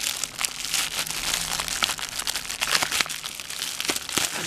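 Plastic mailer packaging from an AliExpress parcel crinkles and rustles continuously at close range, dense crackling with sharp scattered crackles throughout, no speech.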